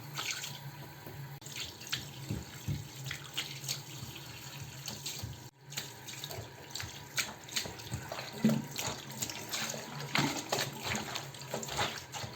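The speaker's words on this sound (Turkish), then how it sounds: "şöyle bunu güzelce ıslatıyoruz. ılık bir su ile" Lukewarm water runs from a tap while a towel is soaked under it, steady splashing and trickling with uneven bursts as the cloth is moved, close and fairly quiet.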